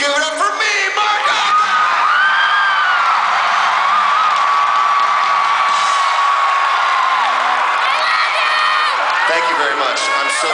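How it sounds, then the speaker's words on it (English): A live audience cheers a performer with loud sustained whoops, shouts and applause, a dense roar of the crowd throughout. "I love your applause"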